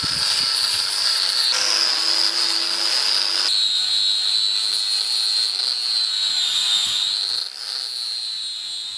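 Grinder smoothing off excess weld on the subframe of a Bedford CF van, a loud, steady high-pitched whine that shifts pitch a few times as the disc bites, with no talking.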